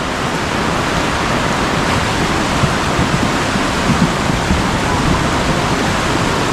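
Heavy rain pours in a steady, dense roar over a flood-prone rural province at risk of landslides, with a constant wash of noise and no pauses or voices.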